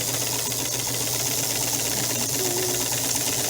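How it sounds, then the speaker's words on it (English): A sewing machine runs steadily, topstitching close to the edge of a fabric face mask. Its constant whirring hum and rapid needle chatter carry on without a break, near and fairly loud. "we're just going to continue top stitching about 1/8 of an inch from the edge"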